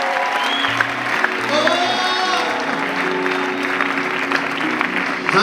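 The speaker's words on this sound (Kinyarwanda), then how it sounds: "amashyi menshi kuri Kristo." Congregation applauding at a Christian worship gathering, a steady broadband clatter of many hands throughout, with singing and musical tones mixed in underneath.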